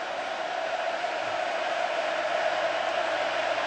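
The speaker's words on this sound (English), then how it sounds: "This crowd doesn't stop." Stadium crowd at a Crimson Tide versus Texas A&M college football game roars in a loud, unbroken wall of sustained noise with no letup.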